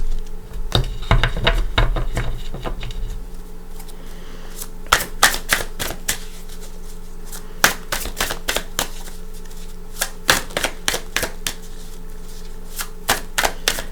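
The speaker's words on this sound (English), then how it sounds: "let's give them a cut. I'm not going to waste a whole lot of time shuffling." A deck of tarot cards is riffled and cut, a dense flutter of shuffling at first followed by a series of sharp card taps and slaps, close and alone.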